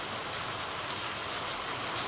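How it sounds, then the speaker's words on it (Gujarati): Heavy rain pours down in a village, a dense, steady hiss of drops on surfaces that holds at an even level throughout, with no voices over it. "તો આપણે જો ગામડે જોરદાર વરસાદ ચાલુ થઈ ગયો હે."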